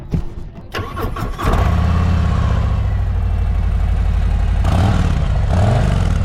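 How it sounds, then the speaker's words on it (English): A 2024 Harley-Davidson Road Glide motorcycle engine cranks and fires up, then settles into a loud, steady idle with a throaty exhaust burble and occasional blips. "The exhaust is what you'd expect from a new bike."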